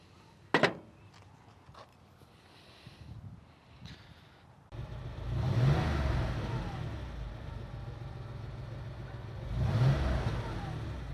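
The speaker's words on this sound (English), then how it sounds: "So now let's do the same test drive and see if it changes." A Porsche 911 on a test drive, a few knocks and rustles at first, then a steady engine drone inside the car that swells twice as it accelerates, with some wind noise.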